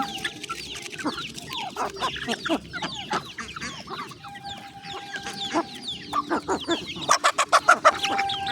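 Chickens cluck and squawk continuously at close range, overlapping calls with a rapid run of sharp clucks near the end.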